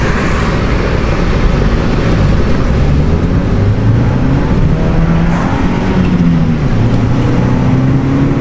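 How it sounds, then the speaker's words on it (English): A car driving along, its engine and road noise forming a loud, steady drone from inside the cabin that holds even throughout with no speech. "It's really hard to drive one-handed."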